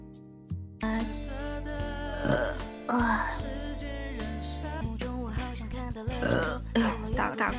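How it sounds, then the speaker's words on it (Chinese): A loud, drawn-out burp from a vtuber streaming live, rumbling low and close over music with a steady harmonic backing, with a short break partway through and then continuing. "哎呦，我靠天，打了个这么大的嗝！"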